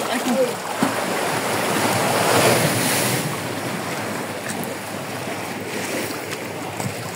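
Sea waves washing onto the shore at Nasugbu, Batangas, a steady broad surf roar with wind buffeting the microphone, swelling slightly in the middle and continuing throughout.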